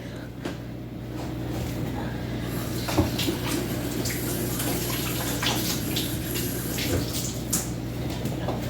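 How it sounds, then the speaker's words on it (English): Hands being washed under a running tap in a home kitchen, a steady rushing splash of water that holds level throughout with a few brief louder splashes. "I had to wash my hands because my hands got a little dirty there."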